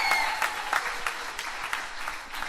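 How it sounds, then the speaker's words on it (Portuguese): Congregation applauding at a church plenary gathering, a moderate steady patter of many hands clapping, somewhat distant and even in level. "Dê un aplauso para Jesús por la vida de él."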